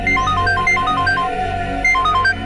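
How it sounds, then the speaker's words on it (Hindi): A phone rings unanswered in a Hindi TV drama scene, its electronic ringtone repeating in short melodic bursts over a steady room-tone background, fairly close and continuous, with no voices. "ये फोन क्यों नहीं उठा रहे हैं?"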